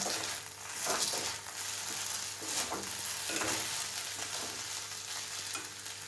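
Sabudana khichdi being sautéed with salt in a pan, giving a soft, steady sizzle with periodic stirring scrapes, fairly quiet and without voices.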